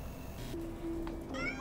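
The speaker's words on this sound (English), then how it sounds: "It's a kitty!" A cat in the video game Amanda the Adventurer gives a short, clear meow at close range, rising briefly over a quiet ambient game background.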